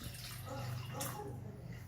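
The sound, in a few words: water being poured into a pot for Maggi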